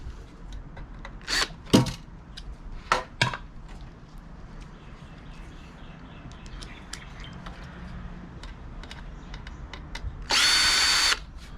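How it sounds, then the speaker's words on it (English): A power drill backing screws out of a hard drive: several short whirring bursts with clicks and handling noise between them, then a longer, louder whine near the end. "get those screws out"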